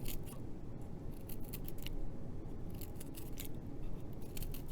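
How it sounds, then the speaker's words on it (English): Scissors snip notches into paper for a holiday kids' craft. Quick, crisp cuts come close and in irregular bursts over a soft, steady background, with no talking. "take your scissors again and you cut each of those notches"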